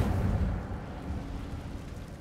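A fire spell, Incendio, cast in the video game Hogwarts Legacy gives a loud, rumbling burst that fades into a steady roaring crackle of flames over a couple of seconds.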